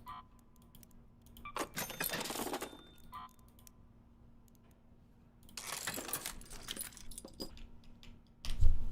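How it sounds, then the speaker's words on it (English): A bunch of keys jangling in two separate bursts, each lasting about a second or two, with a sharper clunk at the very end, close and fairly loud, no talking. "I like these keys"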